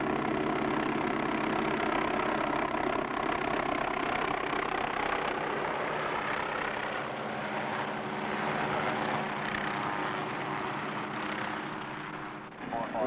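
A firefighting helicopter flies over a forest wildfire, its broadband engine and rotor roar steady and fairly loud throughout, fading slightly near the end, with faint talk underneath.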